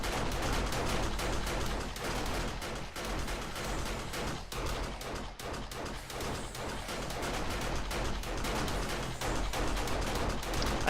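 Dense, sustained gunfire from many weapons in the zombie survival game 7 Days to Die, a loud continuous barrage of overlapping shots and bursts with no pauses, running alone without speech.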